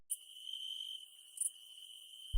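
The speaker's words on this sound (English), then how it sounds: "listening to the crickets" Evening crickets chirp in a steady, high, continuous trill, fairly close and alone, with a short thump at the very end.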